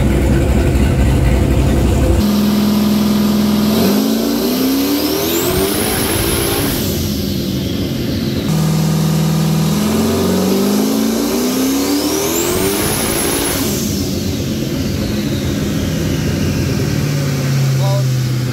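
A 5.3-liter V8 with a GT45 turbo revving hard on a dyno, rising in two long loud pulls with turbo whistle climbing to a peak, then dropping back to a rough idle between runs.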